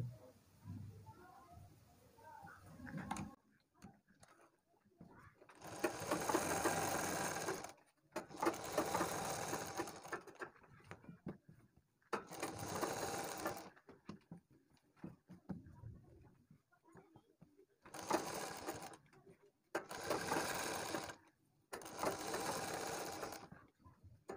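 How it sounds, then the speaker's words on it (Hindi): A sewing machine stitching the edge of a kurti neckline runs in six or seven bursts of rapid rattling, each a few seconds long, separated by quiet pauses with faint handling sounds. "पलटने के बाद में यहाँ पर हम किनार की सिलाई लगा देंगे"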